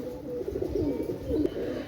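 A pair of Pakistani pigeons of imported bloodline cooing at close range, soft rolling low coos repeating in a steady, throaty rhythm with no talk.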